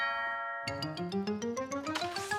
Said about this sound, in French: la sonnette retentit encore